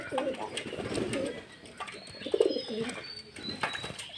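Soft pigeon cooing close by, low throaty calls with some background rustling and faint chirps.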